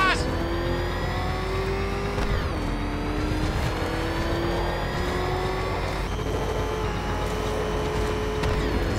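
Batmobile in Batman Arkham Knight accelerating, a loud sustained engine roar that climbs in pitch with gear shifts, close and continuous, with game sounds and likely voices underneath.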